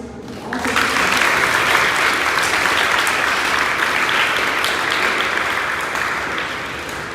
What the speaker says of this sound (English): Please join me in a round of applause for all of you.